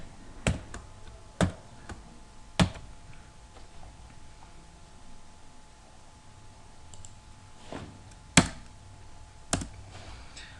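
Sparse, faint keystrokes on a computer keyboard while HTML tags are typed in Notepad++: a few isolated sharp clicks spread across a quiet room with long gaps between them.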